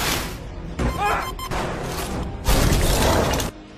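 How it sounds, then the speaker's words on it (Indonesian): An oxygen tank explodes in a Mars film scene, with several sharp blasts and crashing bursts separated by short gaps, loud and close, as debris shatters and rumbles between the booms. "Menyebabkan tangki oksigen meledak."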